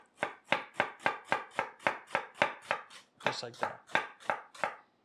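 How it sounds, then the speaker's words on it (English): A knife julienning a quarter of a cabbage on a cutting board, heard as a steady run of about fifteen crisp, evenly spaced chops, close and clear, with a brief spoken comment near the end. "And then we're going to julienne the same exact way."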